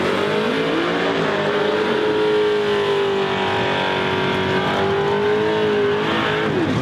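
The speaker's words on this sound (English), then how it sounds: "The Mustang, Lewis, leaving launching hard, trying to hold off the hard charge of the Chevy Camaro." A Ford Mustang and a Chevy Camaro drag race down a strip, engines roaring loud and sustained as one pulls through a long steady high-rev run, then tails off at the end.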